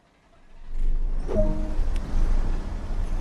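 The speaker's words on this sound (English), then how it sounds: "Start the engines in this vehicle." Diesel engines on a Great Western train in Train Sim World 2 start up: a low rumble swells within the first second, then settles into a steady, loud idle with no talking.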